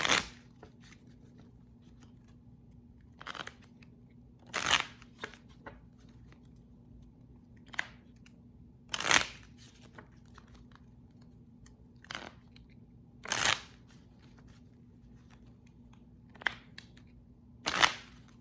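Tarot advice cards being shuffled in short bursts, several riffles and snaps spaced a few seconds apart over a quiet room with a low steady hum.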